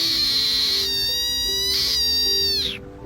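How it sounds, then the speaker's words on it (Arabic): A black rain frog gives a long, squeaky, whistling call, loud and close, made of several drawn-out harmonic squeals that end with a falling tail. "ضفدع حزين ووجهه عبوس دائما، أطرافه قصيرة وجسمه ممتلئ وصوته فريد جدا"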